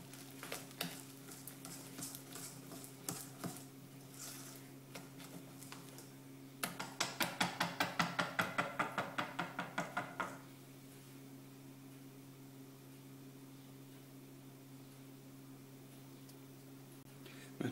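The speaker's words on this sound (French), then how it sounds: "Et à nouveau, je bats mon mélange." Marble cake batter with orange juice being beaten in a bowl, a fast run of rhythmic whisking taps that builds for a few seconds in the middle after quieter scattered stirring, close but faint, with a steady background hum and no talking.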